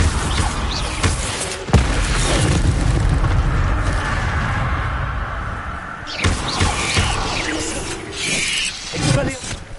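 Incendio fire spell cast in Hogwarts Legacy, a loud whooshing, crackling burst of flame with booming impacts amid combat noise, followed by a second blast after a short gap.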